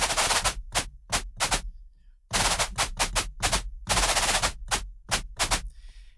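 A rudimentary electronic snare drum sample in a military-style film cue plays sharp, loud rapid bursts and rolls with short gaps between phrases, marching-style accents, alone without speech.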